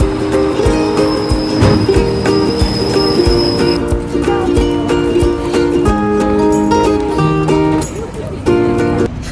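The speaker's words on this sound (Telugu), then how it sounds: "ప్రస్తుతానికైతే మనం మన ట్రైన్ జర్నీ కొనసాగిద్దాము" Train ride on a rail journey, with loud, sustained high-pitched wheel squeal over a steady rolling rumble, shifting in pitch as the carriage moves, close and continuous.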